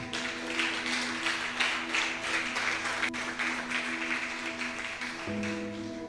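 Sustained applause from a church congregation, steady and fairly dense throughout, with a held organ or keyboard tone underneath.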